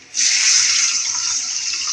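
Water poured into a pan while cooking upma, a steady bright hiss and splash starting abruptly and continuing close and loud for under two seconds.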